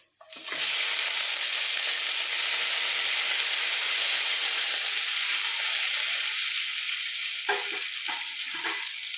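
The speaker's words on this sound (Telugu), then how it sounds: "పోపెట్టుకున్నాను టమాటా ఉల్లిపాయ కరివేపాకు వెల్లుల్లి పచ్చిమిర్చి ఇవన్నీ వేస్తున్నాం" Tomato, onion, curry leaves, garlic and green chili hitting hot oil for tempering: a loud, steady, close sizzle that starts abruptly and holds for several seconds, with a few stirring scrapes near the end.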